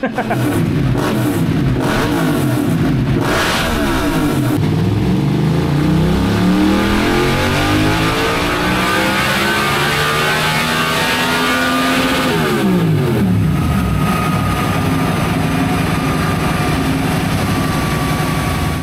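An MT-07 motorcycle engine revs hard and steadily on a dyno, climbing through the range with sweeping pitch, loud and close, held for a long stretch before dropping and rising again.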